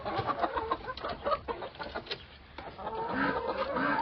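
Hens and a rooster cluck and chatter steadily as they leave the coop on a small farm on an autumn day, a busy layered flock sound close by.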